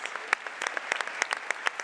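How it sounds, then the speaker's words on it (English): Audience at the 2022 venture award ceremony applauding, a sparse patter of individual claps with sharp, close hand strikes scattered irregularly throughout. "Big applause again"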